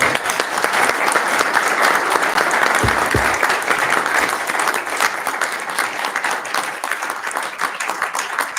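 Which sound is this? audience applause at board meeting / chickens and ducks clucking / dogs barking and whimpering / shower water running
audience applause at board meeting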